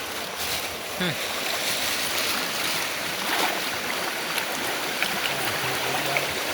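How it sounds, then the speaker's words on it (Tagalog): Strong river current rushing in an outdoor stream during fishing, a steady broadband wash of flowing water throughout, with faint voices mixed in. "Malakas na yung agos"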